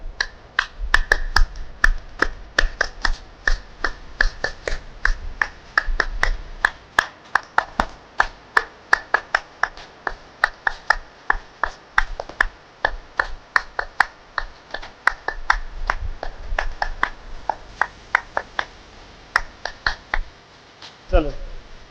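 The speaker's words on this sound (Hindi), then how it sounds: "तो दो व्यक्ति के 2000 तालियां लगाते हैं।" A room of people clapping hands together in a long, fast, synchronized rhythm of sharp claps, loud and close, keeping a steady beat before trailing off near the end, with occasional voices.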